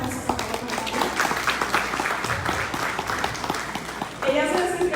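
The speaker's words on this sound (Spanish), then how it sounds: "una aplauso para Carla" An audience at a talk on resilient communication applauds a guest speaker being introduced, sustained clapping from a crowd with voices mixed in throughout.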